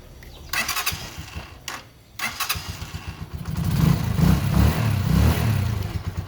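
A few clicks and a brief crank, then a Rusi DL150 motorcycle engine catches and settles into a steady, rumbling idle close by.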